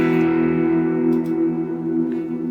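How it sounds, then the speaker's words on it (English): A sustained guitar tone drenched in dynamic hall reverb from a Line 6 POD Go rings out and lingers as a dense, smooth trail, fairly loud and without any talking. "the reverb will stay on your sound. It will, you know, it will keep flowing"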